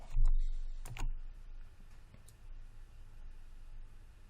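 Computer keyboard keys and mouse buttons click a few times early on, sharp and close, then the clicks thin out against a quiet room hiss.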